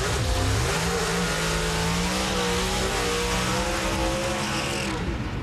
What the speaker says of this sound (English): Nice burnouts.